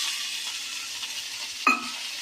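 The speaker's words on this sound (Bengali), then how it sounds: "এই যে আমার কেটে রাখা টমেটোগুলো আমি এর মধ্যে দিয়ে দিচ্ছি" Chopped tomatoes go into hot oil in a pan and sizzle steadily, with a bright clink of a utensil near the end, close and fairly quiet.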